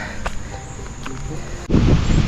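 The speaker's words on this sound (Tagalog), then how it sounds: "Mabilis pa rin ang ihip ng hangin dito sa amin sa Kalaka." Strong wind blows outdoors in Kalaka as a steady, rough rush against the microphone, then surges into a louder, heavier gust near the end.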